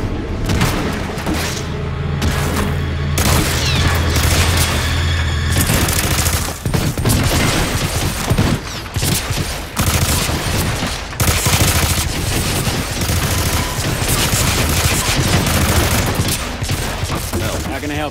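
Dense, loud gunshots and booming blasts fire almost continuously at a shooting range in Hitman: Absolution, rapid bursts with brief pauses and heavy low thumps, with a voice briefly heard underneath.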